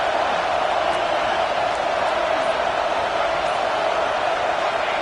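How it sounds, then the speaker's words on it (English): A loud college football stadium crowd roars in a continuous, dense wash of cheering and noise during a late fourth-down play, sustained and steady throughout. "The crowd is loud, hoping for a fourth down stop."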